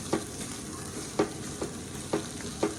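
Boiled potatoes and peas for pav bhaji are pressed with a hand masher in a pan, giving about five soft, squelchy thumps at uneven intervals, fairly quiet and close.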